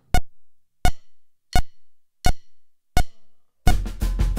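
Five evenly spaced, ringing single drum strokes sound alone, followed by a burst of quick doubled hits over a foot-played hi-hat ostinato with cymbal sizzle, close and clear.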